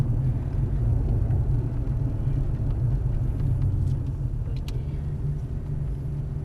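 A Ford Mustang Shelby on a drift course gives a steady, loud low rumble from inside the car, with the engine droning evenly throughout and no voices.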